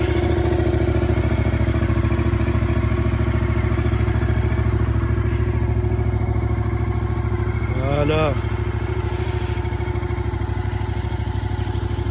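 A motorcycle engine idles continuously with a steady, throbbing rumble and clatter, close by; a voice speaks briefly over it.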